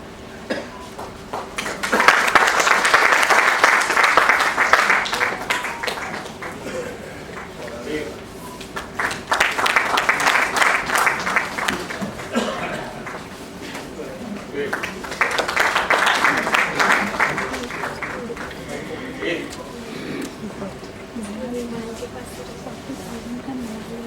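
An audience at a summer lecture series claps to welcome two wing commanders, bursts of applause rising and fading three times, interleaved with someone talking over a hall microphone.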